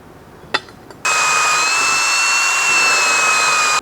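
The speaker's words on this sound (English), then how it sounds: "we're going to start out with drilling a pilot hole." A power drill drilling a pilot hole whines up after a couple of faint clicks and runs steadily at high speed, close by, with no talking.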